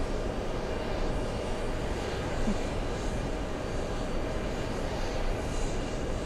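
Jet airliners landing at a distant airport produce a steady, broad engine roar that holds evenly for several seconds with no voices over it.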